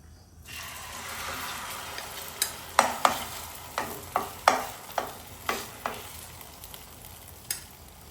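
An omelette frying in a pan with a steady sizzle throughout, punctuated by a series of sharp clicks and scrapes of a utensil working the eggs at a fairly regular pace; nobody speaks.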